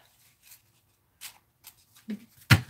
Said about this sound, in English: Let's do the slow deal here. The slow shuffle.